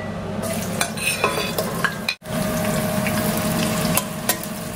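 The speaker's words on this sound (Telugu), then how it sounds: "ఆనియన్స్ వేస్తున్నా." Onions sizzle and fry in a deep 6.5-litre pot for chicken biryani, a steady, close hiss with occasional clinks and stirring scrapes, briefly cut off midway, with no talking.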